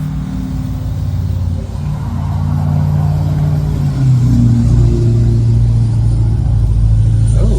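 A 1957 Chevy Bel Air rides past on a trailer, heard as a loud, steady low road rumble of a passing vehicle that swells slightly toward the end, with no talk.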